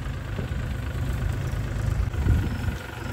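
A tractor engine idles at a farm with a steady low rumble and vibration, close and continuous with no talking.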